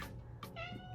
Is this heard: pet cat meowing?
yes